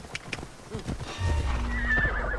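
A horse whinnies and its hooves clip-clop in Assassin's Creed Odyssey, the neigh close and loud, followed by a low rumbling snort and rising tone at the end.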